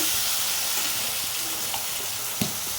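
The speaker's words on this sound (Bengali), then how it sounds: "এদিকে লাল লাল করে ভাজা হচ্ছে" Pointed gourd frying in a pan with turmeric and salt, an even crackling sizzle heard close and steady with a couple of faint clicks.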